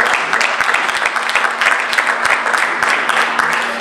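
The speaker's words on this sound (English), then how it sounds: "You can give her a round of applause" A meeting-hall audience gives sustained applause for the Honorable Lula Lee, the first Black Benton Harbor City Commission member, at an emergency town hall: dense, steady clapping from many hands with no speech over it.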